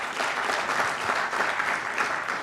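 A room full of attendees at the ARIN 55 networking meeting claps steadily, a dense even wash of applause that holds at a constant level throughout with no speech on top.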